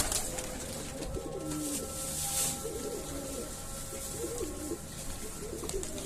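Pigeons cooing in a loft where the birds are in poor condition, several low rolling coos repeating in a slow rhythm against steady background hum, moderately near and soft, with no talking.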